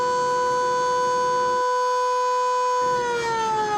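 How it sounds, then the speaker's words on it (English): A long, steady quarry blast warning siren at Lithonia Quarry wails on one tone throughout, loud and continuous, dipping slightly in pitch near the end. "Lithonia Quarry uses 3 long siren blasts to signal the blast"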